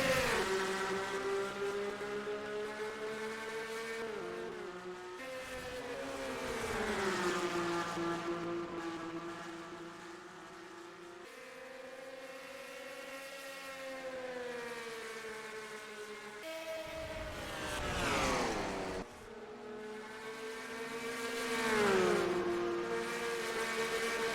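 Stock car engines in a racing video game drone and rise in waves as the field gets underway, a continuous buzzing roar with repeated pitch climbs and drops as gears shift, fairly quiet and without talk.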